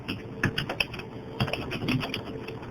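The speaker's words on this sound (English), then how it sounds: "So I'm just going to start typing." Someone types on a computer keyboard while writing a Microsoft Word 2007 document, producing close, irregular key clicks in short uneven bursts with no speech.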